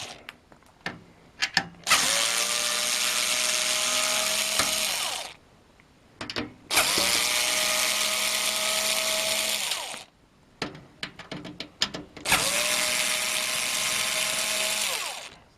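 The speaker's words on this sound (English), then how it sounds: "Okay, so we're just going to unscrew it here." A powered screwdriver backs screws out of an old PC case in three long whirring bursts, each rising to a steady motor whine, separated by clicks and handling taps, close and loud.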